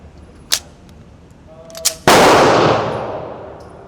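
A Smith & Wesson M&P 2.0 Pro Series pistol in .40 S&W with a forced-reset trigger fires outdoors: two small sharp pops, then a single loud blast whose roar decays over more than a second, with no talk.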